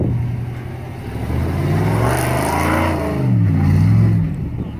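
A Jeep Comanche crawling up the steep Widowmaker rock obstacle in Moab, its engine revving up and down in rising and falling surges, loud and close.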